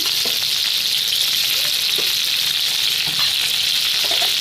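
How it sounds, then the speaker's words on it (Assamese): Sliced onions frying in the oil left over from browning chicken, a loud, dense and unbroken sizzle close up with occasional small pops and no voices. "পিঁয়াজখিনি মই ৰংচোৱা হোৱালৈকে ভাজিম।"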